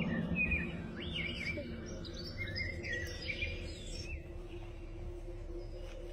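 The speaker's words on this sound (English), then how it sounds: "all the bird and nature sounds were on repeat" Bird calls and chirps played as fake nature sounds from speakers hidden around a neighborhood, looping steadily over a constant low background hum, with repeated chirping phrases throughout.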